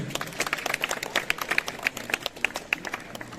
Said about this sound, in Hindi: हम अपने लिए भी एक बार जोरदार ताली बजाएंगे।